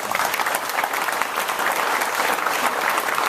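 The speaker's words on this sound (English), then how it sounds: "Hold your applause, there's 7 of them." Audience at a library board speech applauding, a dense, steady wash of clapping from many hands in an indoor room, continuous and fairly loud throughout without a break.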